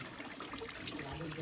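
A strong stream of running water from a tap, a steady hissing splash heard close up, alone.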